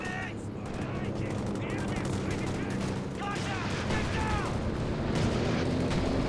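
Machine gun fire in the World War II strategy game Company of Heroes 2, rapid bursts of automatic gunfire mixed with other shots and battle noise, with a commentator talking throughout.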